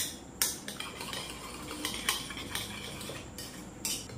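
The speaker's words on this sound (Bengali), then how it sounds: "এবারে সবকিছু একটু ভালো করে মিশিয়ে নিতে হবে" A spoon clinks and scrapes against a bowl while onion filling for Mughlai paratha is mixed, giving a few sharp metallic taps over soft stirring, close and fairly quiet, with no voices.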